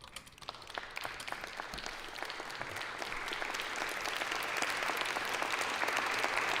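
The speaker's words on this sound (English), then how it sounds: "They are true heroes, and they deserve all of our applause today." Crowd applause for Capitol Police officers, heard as a distant, steady patter of many hands that grows gradually fuller and louder over several seconds.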